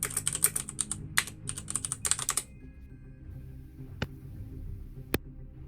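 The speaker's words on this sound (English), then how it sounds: "So Slight is fear typing" Rapid typing on a computer keyboard during a StarCraft 2 tournament broadcast, a dense close run of clicking keystrokes for about two seconds, then quiet with two isolated sharp key taps.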